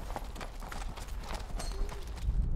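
Hooves of a ridden horse clip-clop at a steady trot, with a soft rhythmic pattern of muffled beats under faint outdoor noise.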